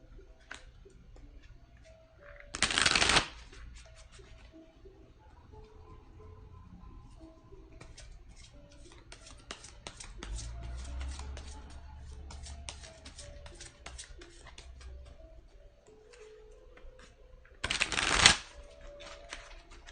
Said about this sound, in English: So I will begin to shuffle the deck and draw the cards.